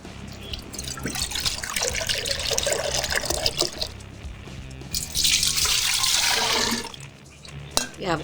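Apple cider poured from a container for a pumpkin spice punch, a steady splashing liquid stream that swells louder partway through, then tapers off with a few drips near the end.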